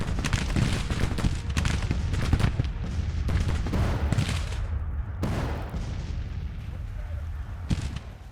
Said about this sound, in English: Stand up and give me a volley while these guys fall back.